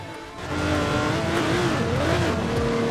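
A Subaru tears along an off-road route in Forza Horizon 4, its engine revving loud and steady with rising and falling pitch as it accelerates, a faint tire scrub underneath.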